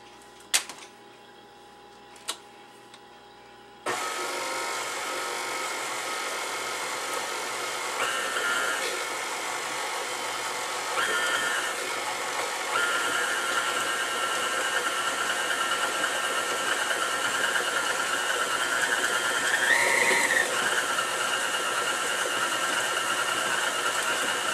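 An electric mixer runs steadily while beating eggs into chocolate chip cookie dough, a continuous close whir with slight pitch shifts as it works, after a few brief clicks at the start.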